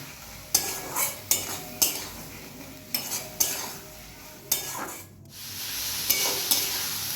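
Sardine curry masala with fried potatoes is stirred in a hot pan, with a spoon scraping and clinking against the pan in sharp repeated strokes over a soft steady sizzle.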